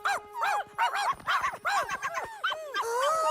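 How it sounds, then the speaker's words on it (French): High-pitched yips and whimpering barks from puppies, repeated in quick bursts, close and fairly loud. "les bébés chiens sont rentrés."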